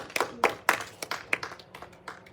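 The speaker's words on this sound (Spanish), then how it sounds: "dele palmas al Señor" A church congregation clapping hands in praise during a Spanish-language sermon, a run of sharp, irregular claps, strong at first and then thinning out, close and clear with no voices over them.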